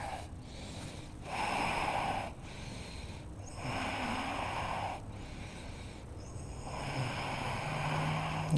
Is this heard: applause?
no